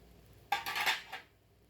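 An old, large metal rice cooker pot is handled, giving a single short metallic clatter with quick ringing clinks against a quiet background.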